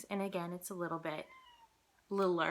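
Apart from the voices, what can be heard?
cat meowing behind a closed door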